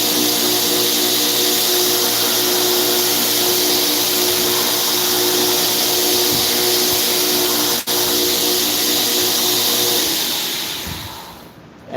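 A knife blade being ground on a belt grinder with fine grit belts, a steady loud whirring roar with the grinding running continuously before winding down at the end.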